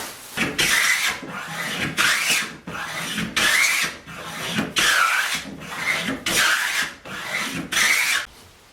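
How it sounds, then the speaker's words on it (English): A hand plane shaves down timber in steady push strokes, each a loud, close rasping swish lasting under a second, repeating roughly once a second with short gaps between. "I just have to plane down until I'm touching my chop"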